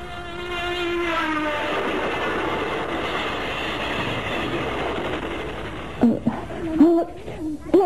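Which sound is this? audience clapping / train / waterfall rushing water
train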